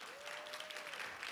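An audience at a legacy park recognition ceremony claps steadily in a brief, dense round of applause, heard at moderate distance.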